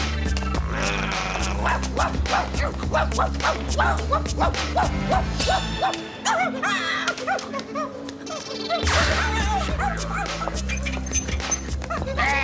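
Dog whimpering and barking amid a busy cartoon soundtrack, short yips and whines over music and effects, with a quieter stretch midway before the din returns.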